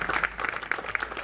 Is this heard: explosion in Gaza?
no